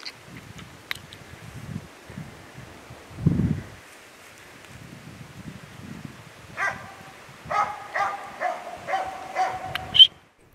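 A Jämthund bays a moose at the edge of a small forest lake during a moose hunt, giving a series of sharp, ringing barks toward the end after quieter rustling and scattered sounds.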